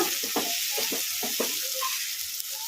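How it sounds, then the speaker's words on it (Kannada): Tomatoes fry soft in a pan for an onion curry, giving a steady, close, bright sizzle throughout, with faint stirring scrapes beneath it. "ಟೊಮಾಟ ಚೆನ್ನಾಗಿ ಮೆತ್ತಗೆ ಫ್ರೈ ಆಗಿದಾವಲ್ಲ"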